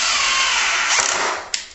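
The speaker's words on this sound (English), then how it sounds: "By drilling it all the way in" A power drill whirs steadily for over a second while driving a screw into a window shutter panel, then winds down with a short clack at the end.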